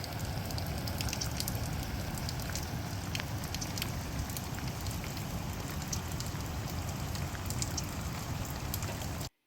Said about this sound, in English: It rained all through the night and then all through the next morning.